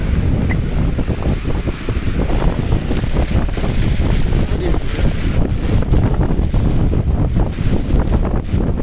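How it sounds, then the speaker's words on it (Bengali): Strong cyclone wind during Cyclone Remal at Sadarghat roars steadily against the microphone, a loud, continuous buffeting rush with faint river water movement beneath and no voices. "দেখতে পাচ্ছেন যে কি পরিমাণ বাতাস।"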